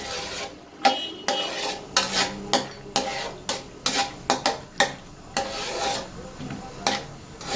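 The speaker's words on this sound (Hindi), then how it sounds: "पिस्ते और ये बादाम, इनको हम अच्छा सा फ्राई कर लेंगे" Pistachios and almonds frying in oil for Kashmiri pea pulao, heard as a run of sharp scraping strokes of a spoon stirring in the pan, roughly one or two per second, over a faint sizzle.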